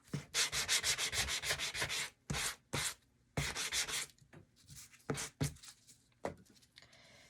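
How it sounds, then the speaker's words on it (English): Short, rhythmic strokes of sanding by hand, a rapid run of scratchy rubs followed by slower, separated swipes, close and clear with no talking. "I'm just lightly sanding with the sanding block."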